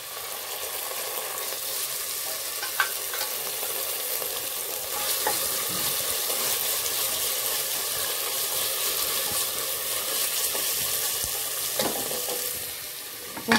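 Vegetables sautéing in a hot pan give a steady, close sizzle throughout, with occasional faint scrapes of stirring and no talk.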